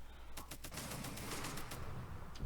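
Rapid bursts of weapon fire from a shield room assault in the video game REDCON, a dense volley of repeated shots crackling steadily throughout at a constant loud level.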